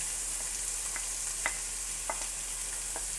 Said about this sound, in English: then we're going to go in with the onions and the peppers.